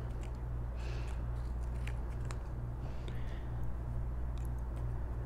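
Fine-tip scissors loosely cutting around paper butterflies for a card: soft, intermittent snips and paper rustles, faint and close, over a steady low hum.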